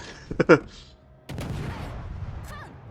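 Warship cannon fire during a World of Warships Legends naval battle: a quick double salvo of loud booms near the start, then a long rumbling roar with a faint whistling shell sound toward the end.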